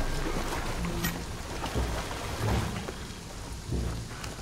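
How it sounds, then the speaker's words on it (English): Heavy rain and rolling thunder from the video game Shadow of the Tomb Raider, a dense steady downpour with low rumbling thunder swelling now and then, filling the whole scene with no talk. "What I'm telling you is the rain is gonna flood it."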